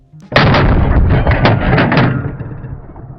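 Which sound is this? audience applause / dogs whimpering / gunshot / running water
gunshot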